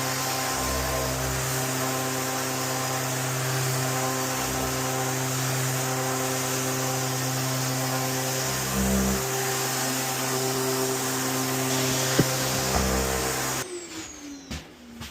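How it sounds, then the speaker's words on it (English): An electric sander fitted with 80-grit paper works a freshly cut piece of wood, giving a loud, steady motorised whine and hiss that runs almost unbroken for about thirteen seconds before it cuts off. "I'm just going to sand that away for a wee bit."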